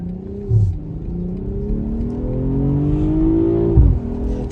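A 2023 BMW M440 Gran Coupe with a 3-liter B58 inline-6 revs loud and close, its engine note rising steadily in pitch over several seconds before dropping sharply near the end.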